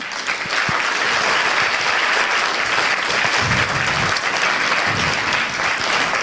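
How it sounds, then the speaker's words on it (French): Steady, loud applause from a large audience at an eloquence contest in Pau fills the whole stretch, dense clapping with no pauses. "Cet homme, c'est Émile Devrette, je vous demande de l'applaudir."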